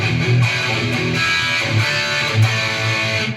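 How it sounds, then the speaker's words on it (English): An electric guitar runs through an EVH 5150 Overdrive pedal with the bass raised and the presence pushed, giving a thick, dense, sustained distorted tone that plays steadily and loudly on its own. "you can actually get a pretty good sound out of the EVH pedal"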